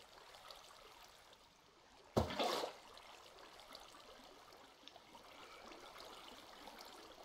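Water is scooped out of a pond in Minecraft, with one short splashy whoosh standing out against a faint, steady trickling background.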